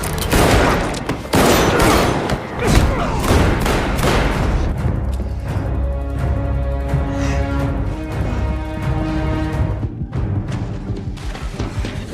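A dense burst of gunfire from an action film scene, rapid overlapping shots and booms packed into the first few seconds, then thinning into scattered impacts over a lingering, tonal background score.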